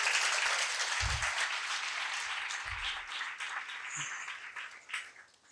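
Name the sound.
audience applause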